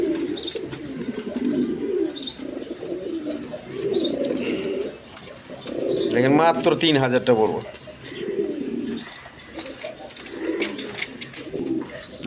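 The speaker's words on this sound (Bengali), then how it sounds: "এখানে এক পেয়ার কবুতর আছে দেখেন আপনার মিলি কালারের রাজগোল্লা কবুতর" A pair of milky-coloured Raj Golla pigeons at a seller's loft coo repeatedly and close by, with soft chirps, while someone talks over them.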